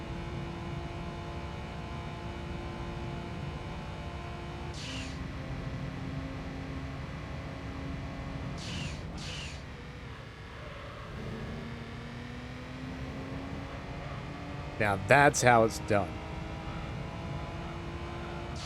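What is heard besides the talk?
rattling car engine in video game Gran Turismo 3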